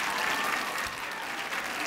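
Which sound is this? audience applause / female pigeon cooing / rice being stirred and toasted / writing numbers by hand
audience applause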